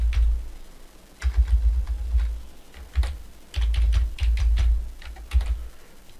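Keys tapped on a computer keyboard while a password is typed during website setup, in irregular close clicks and short bursts with pauses, fairly loud and with no talking.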